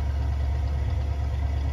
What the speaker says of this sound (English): And turning to the back, let's hear the exhaust.